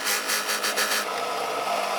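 Drill press boring a hole into a wooden cube in short pecking strokes, a bright grinding buzz pulsing several times in the first second, then settling into a steadier whir.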